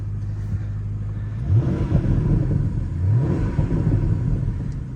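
A 2019 Porsche Panamera GTS Sport Turismo engine revs close by, rising twice in throaty bursts through a loud sport exhaust over a low idling rumble.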